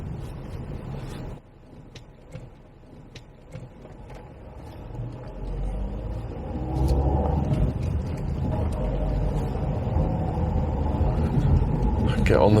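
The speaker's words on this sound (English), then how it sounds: "You're driving a car." Car driving along a road from Capel-le-Ferne toward Folkestone, heard from inside as a continuous low engine and road rumble that grows louder and denser in the second half.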